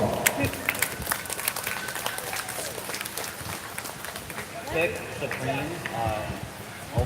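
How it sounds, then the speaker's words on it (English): Spectators clap for two young exhibitors at a county fair 4-H beef show, a dense crackle of hands mixed with crowd chatter and scattered voices in a large arena, carrying on for several seconds. "give those two young people a big round of applause"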